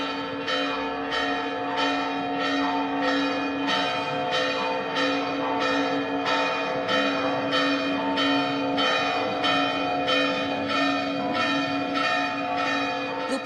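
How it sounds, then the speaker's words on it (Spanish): Church bells peal from the churches of Quito's colonial centre, a loud, steady, rhythmic ringing of overlapping strikes with long sustained resonance continuing throughout. "se escuchó el repique de las campanas de todas las iglesias de aquí del casco colonial"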